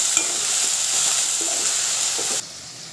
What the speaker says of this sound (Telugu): నూనెలో ఫ్రై చేయాలి.